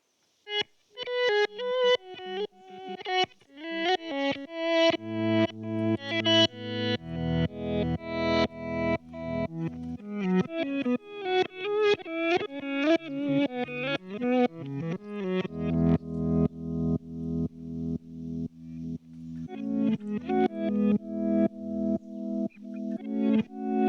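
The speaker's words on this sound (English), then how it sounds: "reverse tape delay type of sound" An electric guitar phrase drenched in reverse tape delay from a Hologram Electronics Chroma Console, notes swelling in backwards and smearing into a dense, wavering wash that builds and repeats throughout.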